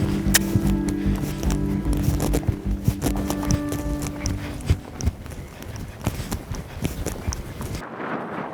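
Horse hooves clip-clop in a steady, close rhythm during a riding session, with occasional soft handling noises; the sound stops abruptly near the end.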